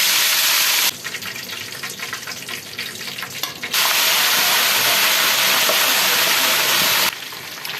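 Chicken pieces fry in hot oil for a mandi masala dish, a loud, close, broadband sizzle that drops back twice to a softer bubbling before surging up again, with no voices.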